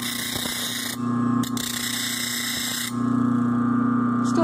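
A homemade bench grinder built from an old juicer motor grinds a chisel, giving a steady close whine with a strong low hum and bright high hiss that shifts as the blade presses on and lifts off, alone with no talk.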